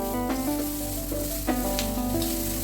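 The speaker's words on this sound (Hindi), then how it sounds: "ज़्यादा कुक नहीं करना है, ओवर कुक, बस सिर्फ सौते ही करना है" Vegetables and chopped green chillies sautéing in a pan for red sauce pasta, a steady close sizzle with occasional stirring scrapes, set against a sustained tonal background hum.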